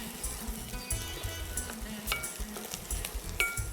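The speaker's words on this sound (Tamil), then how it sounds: "வெங்காயம் பூண்டோடைய பச்சை வாசனை மாறுற வரைக்கும் லேசாக வதக்கிக்கலாம்." Onion and garlic sauté in a pan with curry leaves, giving a steady close sizzle with scattered scrapes and taps of a spoon stirring against the pan.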